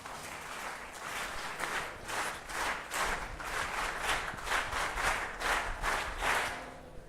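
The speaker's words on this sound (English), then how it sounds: "Please join me in giving a thunderous round of applause as we welcome Cadet Ashwita to the stage." Steady audience applause welcoming a cadet to the stage at a school TEDx youth event, a continuous even wash of many hands clapping, moderately distant and fairly quiet, rising and falling slightly with no talk.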